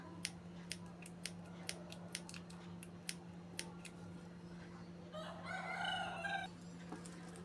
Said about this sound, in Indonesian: Kemudian ini sama kita gunting kecil-kecil pada bagian yang terbukanya ya